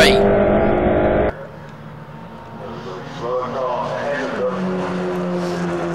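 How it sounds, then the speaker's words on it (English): 750MC stock hatchback race cars at Silverstone, engines roaring loudly at first then cutting to a steadier, more distant drone as several cars run in a close group, with a commentator talking over it. "We've got a 4-car battle with Phil Wright behind these 3."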